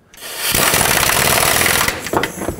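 An impact tool tightens the control arm bolts on a 1997-2003 Ford F-150, a loud, continuous buzzing rattle that lasts about a second and a half before stopping with a few short clicks afterward.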